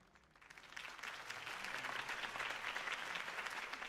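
Applause from a large crowd in the video game Batman by Telltale swells up and holds steady, a dense wash of clapping heard at a distance.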